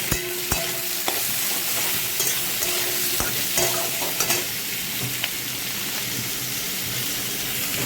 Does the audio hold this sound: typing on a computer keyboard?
no